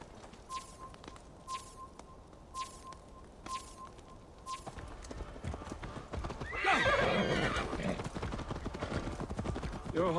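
A horse in Assassin's Creed Valhalla trots with steady, evenly spaced clip-clop hoofbeats, then gives a loud, close whinny.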